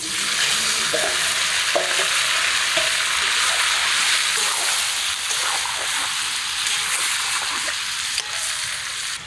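Mutton sizzles loudly in a wok over fried onions for mutton kosha, a steady hissing fry with repeated scraping stirs and light splatter, close and continuous.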